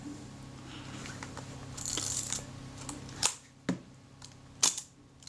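A worn Kodak Retina Reflex type 025 camera fires its shutter several times, each a sharp mechanical click heard close up against faint background noise.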